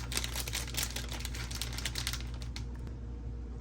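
Crisp, scattered rattling ticks of bacon bits tumbling into a salad bowl, a quick close cascade of small dry hits over a steady low hum that thins out and stops near the end.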